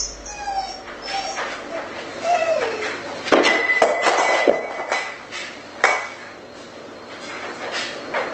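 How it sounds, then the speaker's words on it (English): A dog shut in a cage gives repeated yips, barks and whimpers up close, mixed with sharp metallic clanks and rattles from the cage. "So you leave that dog in the cage, but you bring that dog to the room."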